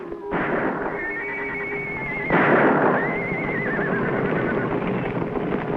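A horse whinnies loudly and close up, its shrill call rising and trailing off, then a second long neigh follows over a steady background.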